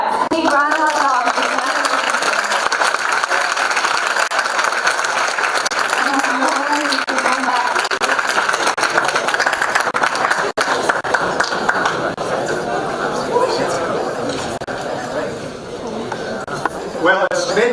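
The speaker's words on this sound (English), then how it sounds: "Big round of applause." An audience at a freshman convocation applauds continuously, a dense wash of many hands clapping with chatter and cheering mixed in, fading slightly toward the end.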